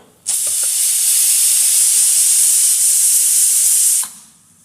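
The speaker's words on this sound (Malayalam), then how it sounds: "അപ്പോൾ ഒരു വിസിൽ കഴിഞ്ഞപ്പോൾ ഞാൻ കുക്കർ ഇറക്കി വെച്ചു" A pressure cooker cooking clams lets off a loud, steady hiss of steam through its whistle. The blast starts abruptly, holds for about four seconds and then cuts off sharply.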